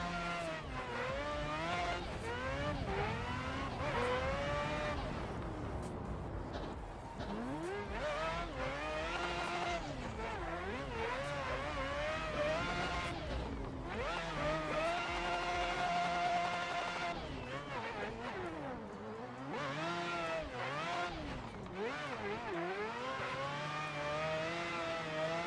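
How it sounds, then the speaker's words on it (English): Four-rotor rotary engine in a 300ZX race car screams through repeated rising revs and gear shifts, with tire squeal mixed in, loud and continuous throughout. "This is the quad rotor, four rotor sound."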